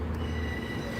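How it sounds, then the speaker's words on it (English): A Class 158 diesel train pulls into Gloucester station, its wheels squealing loudly against the rails in a steady sustained screech close by. "So here comes class 158."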